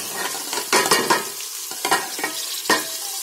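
Chopped green chillies and garlic hit hot oil, sizzling steadily up close while being stirred, with several short scraping strokes breaking through the frying hiss and no speech.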